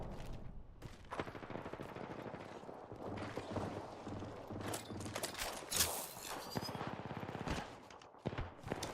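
Rapid bursts of automatic fire from a Havoc energy rifle in Apex Legends, choppy volleys with brief gaps and mechanical clicks, moderately loud against game noise.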